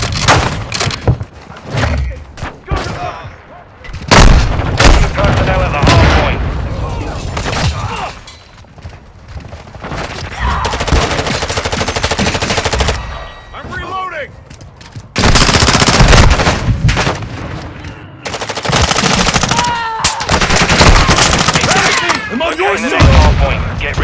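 Loud, dense bursts of automatic gunfire and explosions from a Call of Duty: Modern Warfare II multiplayer match, with stretches of sustained shooting, brief lulls and sharp impacts, voices occasionally calling out over the chaos.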